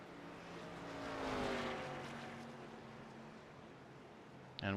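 Race car motor in the iRacing simulator drones at a distance, its pitch swelling and fading as it passes, with a sharper burst right at the end.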